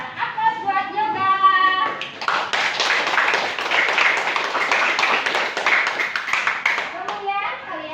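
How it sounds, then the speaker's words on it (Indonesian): Classroom of students clapping in a burst of applause that fills several seconds, with a teacher and children speaking before and after the clapping. "Aplaus"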